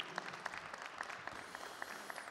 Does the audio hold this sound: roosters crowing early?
no